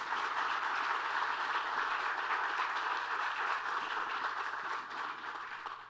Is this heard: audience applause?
yes